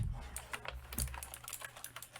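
Fingers tap repeatedly on the casing of a Snakebyte KEY:BOARD Ultra keyboard, giving a quick run of close, light clicks and knocks with no speech.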